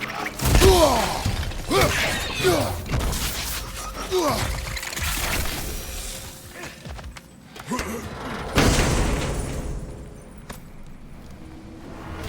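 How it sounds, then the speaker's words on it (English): A loud explosion from the God of War video game erupts as a broad burst late in the passage, following rumbling thuds, crashes and intermittent voices. "The wee bastard's about to explode!"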